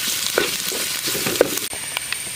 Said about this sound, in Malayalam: ഇനി അത് നല്ല രീതിയിൽ നമുക്കൊന്ന് ഇളക്കി കൊടുക്കാം